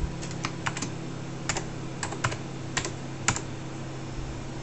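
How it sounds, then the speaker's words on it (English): Keys clacking on a computer keyboard attached to a terminal as a name is entered, a handful of sharp, separate taps in an uneven rhythm over a steady low electrical hum. "it's waiting for me to type my name in"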